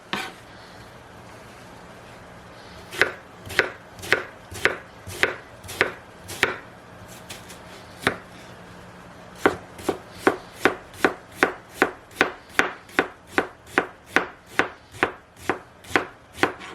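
A knife slices food as thin as possible on a cutting board while brunch is prepared, with a few spaced cuts that are followed by a fast, steady run of crisp chops close to the listener.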